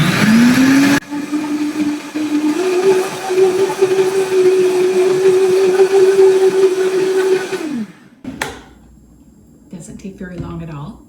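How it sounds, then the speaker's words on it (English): A Vitamix blender whirs loudly with a steady motor drone as it blends a blueberry smoothie, then winds down and stops at about eight seconds, followed by brief clattering and faint voices. "we are going to Vitamix this up quickly"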